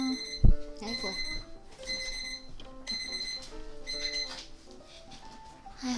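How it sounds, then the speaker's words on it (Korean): An electronic alarm beeps in a steady repeating pattern, continuing under a person talking nearby. "알람도 울리고 그러네요"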